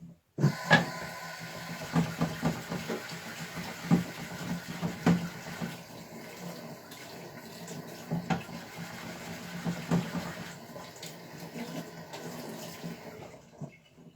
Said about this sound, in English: it's clogging with metal in the stone, so you need to wash it again